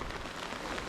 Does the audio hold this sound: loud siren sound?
no